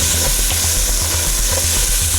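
Onions sprinkled with salt fry in a pan over medium-high heat, giving a loud, steady sizzle with rhythmic stirring scrapes throughout.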